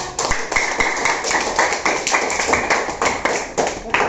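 Classroom of fifth-grade students clapping together, a dense run of quick hand claps lasting the whole stretch, fairly close and steady, with faint voices mixed in.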